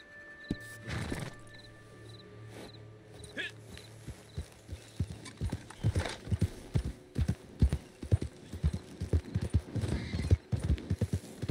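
A horse's hooves clip-clop in Red Dead Online, starting sparse and soon settling into a steady, fairly loud trotting rhythm, with a brief whinny near the start and someone talking at times over it.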